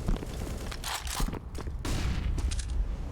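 Scout sniper rifle shots ring out in a competitive Counter-Strike match on Overpass, a few sharp bursts scattered over a continuous din of game noise, with no talk.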